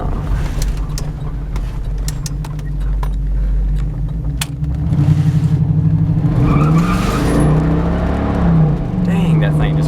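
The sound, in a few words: 1996 Buick Roadmaster wagon engine running and tires skidding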